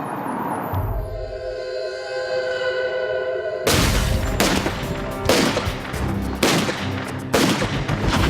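Gunshots ring out in a rapid series of loud, sharp blasts, four or five cracks with echoing tails, following a quieter stretch of tonal, humming sound.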